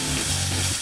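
Peppers tipped into a pan of sautéed onions and stirred around, giving a steady, close sizzle that holds without a break.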